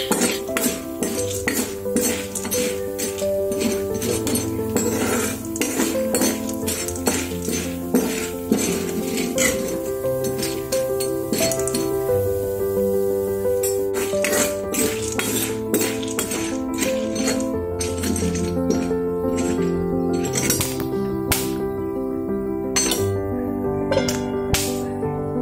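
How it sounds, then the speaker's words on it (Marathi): Popcorn kernels with oil and salt stirred in a pan, with dense, close rattling and metallic clinks of kernels and utensil against the pan, continuing steadily without pause. "त्यामध्ये थोडंसं तेल आणि मीठ घालायचं आणि असं हळूहळू हलवत राहायचं"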